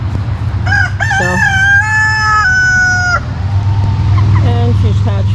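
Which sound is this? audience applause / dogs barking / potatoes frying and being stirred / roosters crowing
roosters crowing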